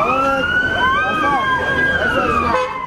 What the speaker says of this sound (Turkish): Polis ekipleri de yürüyüşe sirenlerle eşlik etti.